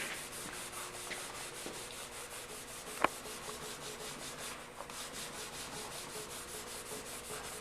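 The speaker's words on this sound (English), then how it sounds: "what you're going to want to do is just rub it into the grain." Cloth rubbing grain filler into the bare wood of a guitar body being prepped for paint, a steady, soft scrubbing swish repeating in a quick rhythm, close and fairly quiet, with one sharp tap partway through and no talking.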